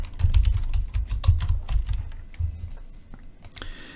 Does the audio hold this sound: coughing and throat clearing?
no